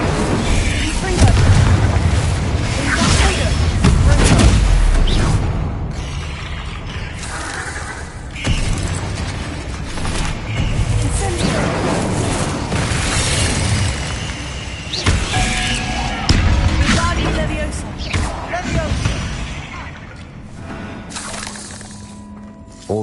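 Spell explosions in the Hogwarts Legacy video game: loud, repeated booming blasts with shattering debris and rumbling impacts, mixed with game sound effects and a voice shouting between them.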